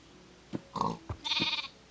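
Sheep bleating in Minecraft on Xbox One, a few short grunting bleats followed by one longer wavering bleat, clear and close with no talk.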